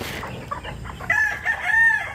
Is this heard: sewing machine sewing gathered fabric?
no